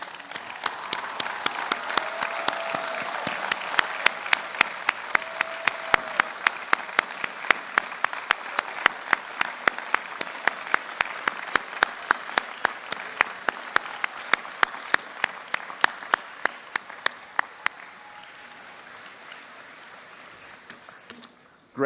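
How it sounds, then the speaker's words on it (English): Graduates at a university commencement ceremony applaud their parents and families, a steady sustained clapping from a large crowd that carries on evenly for about twenty seconds before easing off. "graduates, I ask you to turn and applaud those without whom you would not be here"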